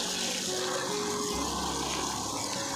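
Water from an RO purifier machine streams steadily, a continuous broadband gush with a faint pump-like hum, no voices.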